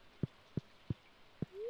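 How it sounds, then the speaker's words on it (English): Rain in the farming video game Stardew Valley, heard as a handful of soft, evenly spaced drip-like taps, faint and quiet, followed by a brief rising tone. "Apparently, this rain is supposed to be completely harmless."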